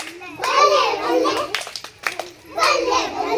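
Children clap their hands together in a classroom rhythm game, bursts of claps mixed with their chanting voices, close and lively.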